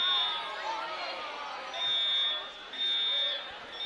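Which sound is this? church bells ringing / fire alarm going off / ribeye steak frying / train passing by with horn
fire alarm going off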